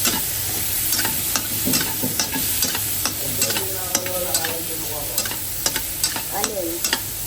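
Tomatoes sizzle in a pan with canned tuna and moringa flowers, a loud continuous fry broken by repeated scraping stirs, with no voices.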